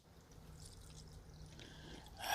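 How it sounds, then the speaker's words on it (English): Liquid alcohol stove fuel is poured from a bottle with a flip-tab cap into a small camp stove at a dark woodland hammock campsite. The trickle is quiet and close, rising toward the end with a brighter splash. "Let's pour that in there."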